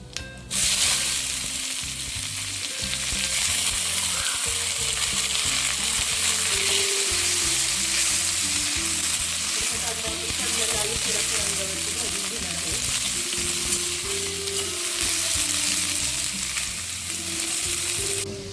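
Onion sizzles loudly in hot oil tempering with bay leaf, a constant crackling fry with occasional stirring scrapes, while someone talks over it throughout.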